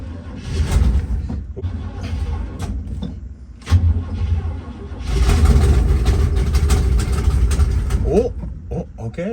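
A 1972 Chevrolet C20 farm truck, fed with gas poured straight into the carburetor, cranks loudly up close, briefly catches, then roars into a rough run before faltering, with voices talking over it.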